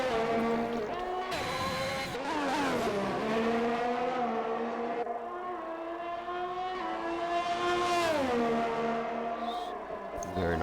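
Race car lapping the Canada circuit in a racing video game, a loud sustained engine whine rising and falling with gear changes and speed, with commentators talking faintly underneath.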